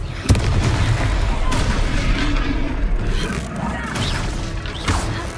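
Confringo spell explosions in Hogwarts Legacy, a dense, booming wall of blasts and crashes with rumbling low end, loud and continuous through the whole stretch, with a player's voice shouting amid the combat.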